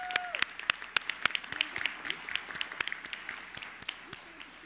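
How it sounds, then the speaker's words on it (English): Scattered applause from a small audience at a school board meeting, a sparse run of individual claps with distinct sharp hits, fairly close and thinning out over a few seconds, with faint voices in the room. "let's give them another round of applause"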